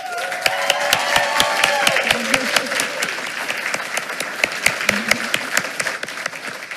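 Applause at a school board meeting for the elementary student of the month, a steady patter of many hands with a few louder individual claps and faint voices underneath.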